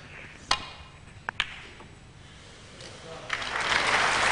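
Snooker crowd at the 2004 Masters, Jimmy White against Neil Robertson, with a few sharp ball clicks early on, then applause swelling steadily toward the end, moderately loud in a large venue.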